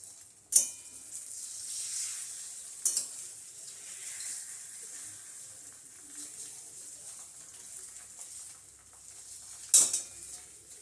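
A steady, fairly quiet sizzle of an egg frying in a pan for egg toast, with a few sharp pops or clinks standing out; no talking.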